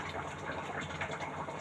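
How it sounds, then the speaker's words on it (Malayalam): Low-sour yogurt pours into a bowl in a continuous soft, wet gush lasting under two seconds, close and fairly quiet, with no voices. "തൈര് ഒഴിക്കുകയാണ്"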